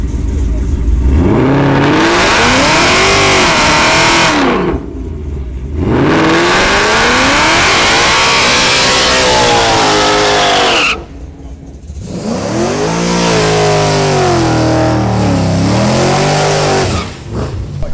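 Dodge Hellcat and Trackhawk in a street grudge race, engines revving hard through rising and falling gear sweeps, loud and close, with brief drops between runs and a possible tire squeal.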